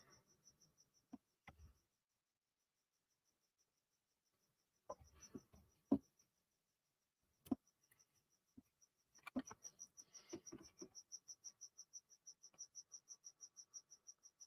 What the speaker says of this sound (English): That cricket is so loud.